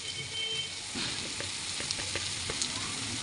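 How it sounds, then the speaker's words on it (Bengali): Dried fish (shutki) frying with turmeric, chilli powder and salt, a soft, steady hiss of oil with a few light stirring taps, close but fairly quiet. "আরেকটু ভালো করে আমি শুটকিটা ভেজে নেব"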